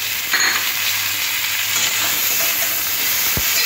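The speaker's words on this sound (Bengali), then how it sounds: "এবার সব সবজিগুলো একসাথে খুব সুন্দর করে এরকম ভেজে নিতে হবে।" Onion, tomato and mixed vegetables fry in a hot pan for a fish curry, a steady loud sizzle and hiss throughout with occasional faint stirring clinks.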